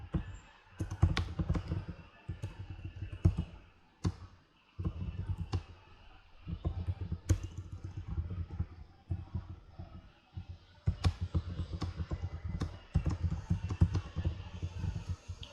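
Code being typed on a computer keyboard, with bursts of rapid, close clicking keystrokes separated by brief pauses and continuing through the whole stretch, with faint voice at times.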